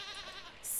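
A goat bleats once in Stardew Valley, a short, soft wavering cry that ends with a brighter, sharper game sound effect, with no talk over it.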